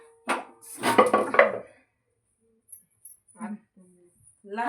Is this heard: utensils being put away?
yes